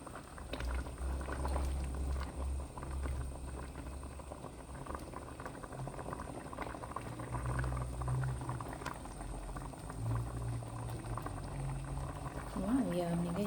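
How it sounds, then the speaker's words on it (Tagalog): Mung beans simmer at a steady rolling boil in a pot, a dense continuous bubbling and gurgling held close throughout, with occasional faint voice sounds over it. "Kumukulo siya, guys."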